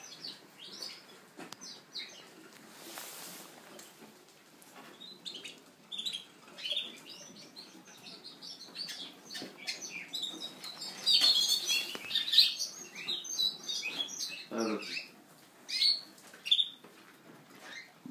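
Birds chirping in scattered short, bright calls, faint and somewhat distant over a quiet background, with a busier burst of tweets partway through.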